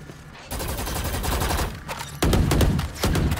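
Gunfire in the video game Valorant: dense, loud bursts of shots, with a sustained volley followed by two sharp, heavier bursts near the end.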